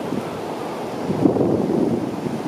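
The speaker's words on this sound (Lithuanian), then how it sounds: "Vat pažiūrėkit, banga po bangos." Ocean waves breaking and washing ashore at Seal Beach near Los Angeles, California, in a continuous roar, with wind buffeting the microphone.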